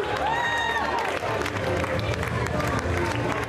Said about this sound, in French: et des applaudissements pour Emmanuel Macron